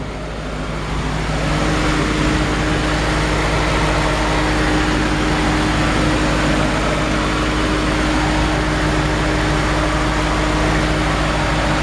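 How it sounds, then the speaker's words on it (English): A 1956 Ford F-100 pickup's engine runs smoothly at a steady idle, a loud, even rumble with a constant low hum that settles in after a brief rise and continues unbroken, with no talking. "Nice, just smooth running engine."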